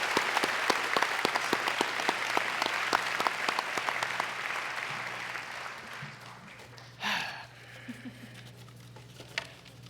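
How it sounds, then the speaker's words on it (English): A graduation commencement crowd claps for a speaker, sharp, dense applause near and loud at first, then thinning and fading over several seconds into scattered murmurs and a brief vocal burst. "I'd like everyone to give Nick another round of applause for giving it a phenomenal speech."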